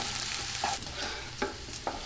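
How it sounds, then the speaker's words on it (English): Breadcrumbs sauté with bacon in a hot pan, giving a steady close sizzle broken by a few soft scraping stirs, with no talking. "And we saute the breadcrumb together."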